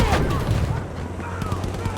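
Machine gun fire in the video game Battlefield V rattles in quick bursts of sharp, close shots over a busy game soundscape, with a brief break midway before the rapid firing resumes.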